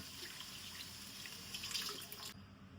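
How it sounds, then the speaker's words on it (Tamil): Water is poured steadily into a pot of tamarind okra curry, giving a continuous splashing, running stream that swells briefly near the end and then stops abruptly. "1 கப்பு தண்ணி திருப்பி ஊற்றுறேன்."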